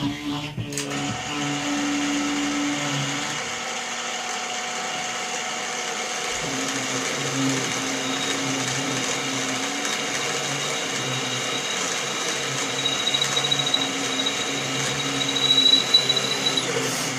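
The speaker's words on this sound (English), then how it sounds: "Now I'll center drill it." Center drill cutting metal on a milling machine, a steady high whirring machine drone with a tonal spindle whine and faint squeal, continuous throughout and close.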